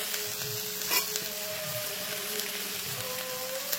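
Cashews and raisins sizzle and fry in hot oil in a pan for fried rice, a steady dense crackle throughout with occasional louder pops and stirring scrapes, close and clear with no talking.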